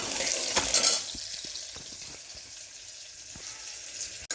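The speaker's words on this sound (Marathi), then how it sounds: "कढीपत्ता घातल्यानंतर थोडा कांदा फ्राय करायला घालायचा" Onion fries in a pan with curry leaves, a hissing sizzle that flares loud at first, then settles into a softer steady crackle broken by light taps of stirring.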